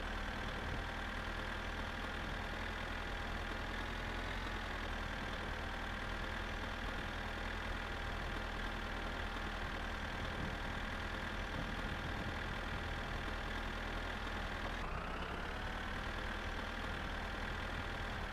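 A tractor engine idles steadily in the driving game My Summer Car, a low continuous rumble with a slight shift in tone near the end, heard alone.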